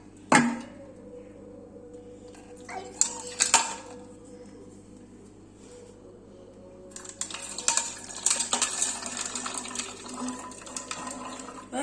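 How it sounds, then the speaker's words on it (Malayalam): Water pours in a steady broadband stream with clinking and rattling of ice into a bottle, after a few sharp knocks and clatters earlier on. "ഈ ഐസ് ഇട്ട് ഈ വെള്ളം ഈ കുപ്പിക്കകത്തേക്ക് ഒഴിച്ചു വെക്കാം"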